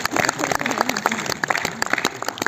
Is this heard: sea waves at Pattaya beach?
no